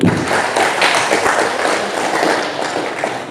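A dense wash of audience applause at a Hindu dharma talk, steady and fairly loud throughout, with no voices standing out.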